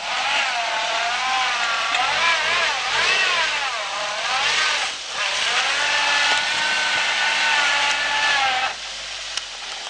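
A VW Santana stuck in mud revs its engine loudly and repeatedly, the pitch climbing and dipping in long strained pulls before cutting off near the end, with no voices over it.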